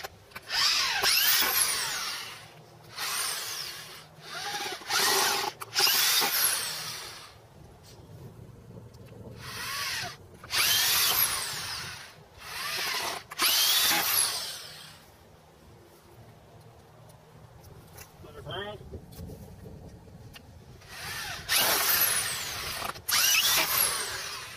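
A power drill drives long screws into a wooden rail trainer in repeated loud bursts of whining, several seconds each, separated by short pauses; no one speaks.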